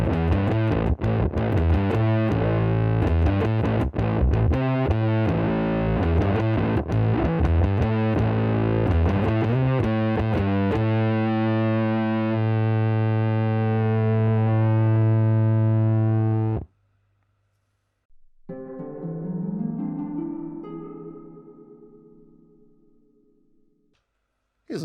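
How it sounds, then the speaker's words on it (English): An Aria Pro II bass runs through a misbiased transistor fuzz boost into an octave effect, producing a loud, dirty, buzzing riff that stops abruptly, followed after a pause by a lone sustained distorted note fading out. "misbiased transistor boost into a little bit of Octave, and it's quite dirty on bass."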